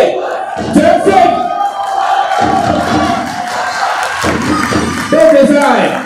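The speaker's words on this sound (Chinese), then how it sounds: "掌声！" A football stadium crowd at the Mongolia vs Hong Kong East Asian Cup qualifier roars and cheers during a ceremony on the pitch, with scattered clapping, shouts and surging swells of noise. A voice talks over the crowd.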